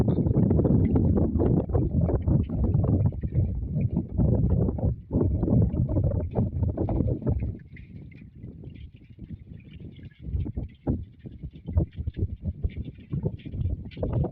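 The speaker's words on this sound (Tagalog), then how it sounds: "nagalakas din yung hangin mga idol at saka yung alon" Heavy, roaring wind buffets the microphone continuously, easing partway through into gustier rumbling with splashy wave sounds underneath.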